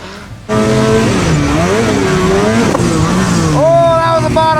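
Snowmobile engine droning and revving as it rides through snow, a loud close motor with rising and falling pitch throughout, climbing sharply near the end; no talking.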